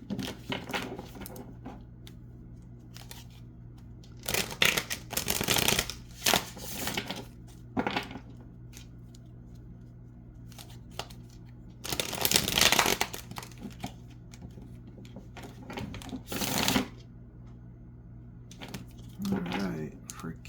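A deck of tarot cards is shuffled in several bursts of dry riffling and flapping, close and fairly loud, separated by stretches where a person talks quietly.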